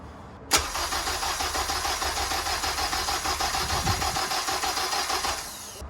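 A K-swapped 1992 Honda Civic VX EG hatchback engine cranks over with its injectors connected, starting with a sharp onset and then a rapid, even, pulsing starter whir for about five seconds without catching, then easing off.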